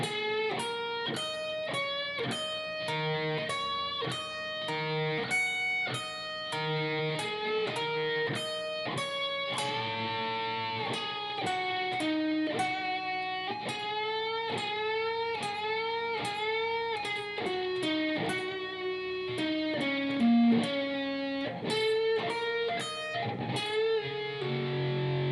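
Electric guitar slowly picking through a solo passage, steady separate notes and double-stops in an even rhythm, clear and alone for about 25 seconds.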